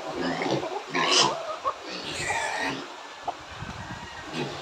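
Pigs at feeding time grunt and oink in short irregular bursts, close and moderately loud, with faint voices now and then underneath.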